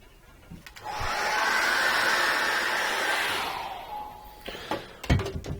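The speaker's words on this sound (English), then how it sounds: "So let's dry that off with a hairdryer." A hair dryer blows with a steady whooshing roar for about three seconds, drying an acrylic painting, then switches off. A few clicks and clatters follow.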